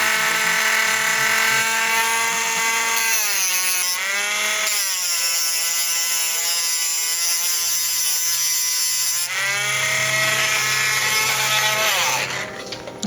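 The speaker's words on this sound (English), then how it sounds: "I'm going to grind off that little glob of solder" A rotary tool grinds a small glob of solder off the wooden movement of an antique cuckoo clock, a loud, steady whine running almost the whole time with shifts in pitch as the load changes, then cutting off near the end.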